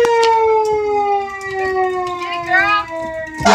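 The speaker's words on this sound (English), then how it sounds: "That's the really loud siren." A siren on a fire truck wails loudly and close, a steady rising and falling electronic tone with brief taps and knocks mixed in and a voice faintly underneath.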